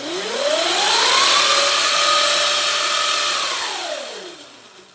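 A Surron electric motor with KO Spec internals spins up through calibration, its whine climbing smoothly in pitch, holding a high steady tone, then winding back down and fading, loud and close with no talk.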